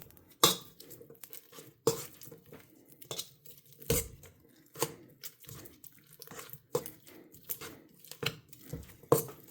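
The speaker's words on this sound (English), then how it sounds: "So I'm going to cream this butter" Butter being creamed in a bowl for a strawberry cake, heard as a steady series of sharp scraping clatters and thumps of a utensil against the bowl, repeating roughly every half second, close and without talk.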